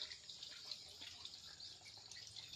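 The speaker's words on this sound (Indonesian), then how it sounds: "hasil dari air pompa hidram yang berukuran 3 inci yang berasal dari sumbernya, berasal dari sungai" Water from a 3-inch hydram pump fed from a river splashes steadily into a drum, a continuous bright hissing pour at moderate distance.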